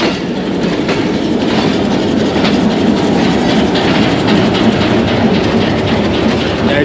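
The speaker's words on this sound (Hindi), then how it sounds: "HBU20 shunting locomotive." HBU20 shunting locomotive rolling through the Rawalpindi railway yard, a dense continuous rumble of wheels and rail noise with faint clickety-clack, loud and close throughout with no talking.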